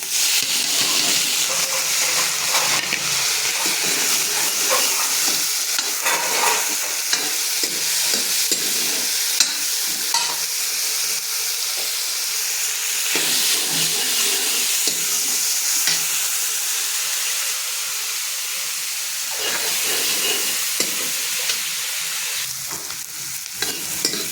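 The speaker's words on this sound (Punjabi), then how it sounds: "ਆਪਣਾ ਪਿਆਜ਼ ਭੁੱਜ ਰਹੇ ਆ ਨਾਲੇ ਟਮਾਟਰ ਪਾਤੇ ਵਿੱਚ" Onions and tomatoes fry in a pan as a loud, continuous sizzle and hiss, with frequent clinks and scrapes of stirring throughout, close by and without speech.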